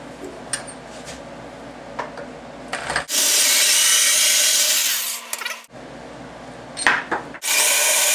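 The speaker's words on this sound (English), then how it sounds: "he's drilling out these holes where these clamps hold the sink on." A power drill bores holes through wood to reach the screws of the clamps holding a sink in a tiny house build, two loud sustained bursts with a quieter gap of handling and scraping between them.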